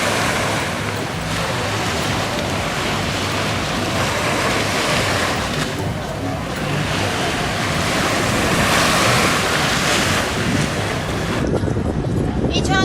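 Pacific Ocean surf washes steadily against the shore, a broad, continuous roar mixed with heavy wind buffeting on the microphone, loud and close throughout with brief surges.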